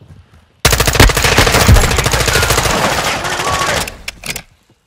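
Sustained automatic gunfire in Call of Duty Modern Warfare II, a loud close burst of rapid shots lasting several seconds and then cutting off, followed by a few scattered sounds.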